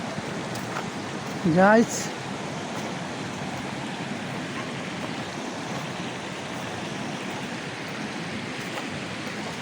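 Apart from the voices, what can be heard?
flowing water of the Marudi river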